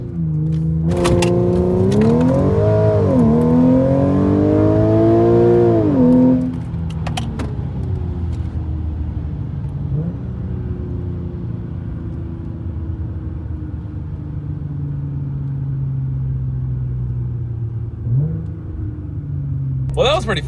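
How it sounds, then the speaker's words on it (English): An Audi engine roars hard under full throttle during a launch-control start, its pitch climbing and dipping through quick gear changes before settling into a lower steady drone. "release the brake and hold the gas all the way to the floor, and you're going to launch your car."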